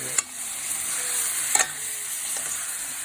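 Chicken and garbanzo bean curry stirred in a pan, sizzling steadily up close, with a few sharp scrapes of the spoon against the pan breaking through the constant frying hiss.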